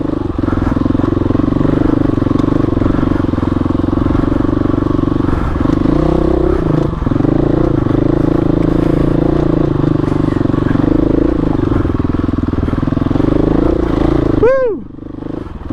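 KTM 500 EXC-F motorcycle engine labouring steadily as it climbs off-camber, sharp rocky terrain, a constant loud close drone with brief dips in load and a rattle near the end.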